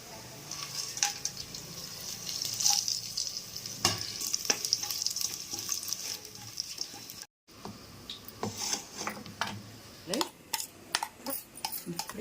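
Onions fried with biryani spices, cardamom, cloves and cinnamon in a pan: a steady close sizzle broken by frequent sharp clinks and scrapes of stirring against the pan.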